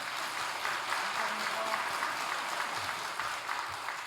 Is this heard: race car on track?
no